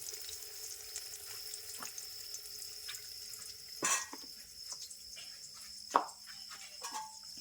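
Eggplant frying in oil, with a thin, steady sizzle and a few soft pops and clicks, heard faint and close.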